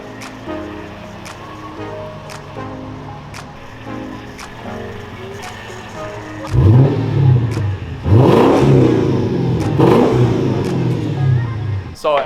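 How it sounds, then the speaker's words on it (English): A naturally aspirated 5-liter V8 car with a muffler delete and quad exhaust tips idles with a lumpy burble. It then barks through several loud, sharp revs that rise and fall, close by, with no voices. "that was the muffler delete. This is a naturally aspirated 5-liter V8."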